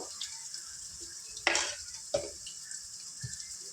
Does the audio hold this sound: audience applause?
no